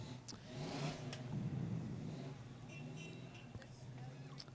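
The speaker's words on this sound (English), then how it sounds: "the FCHS Snow Queen there, Miss Addie Vest, coming along in a beautiful convertible." A convertible car rolls past in a Christmas parade with a moderate engine hum and a brief rev, heard mid-distance beneath talking and crowd noise.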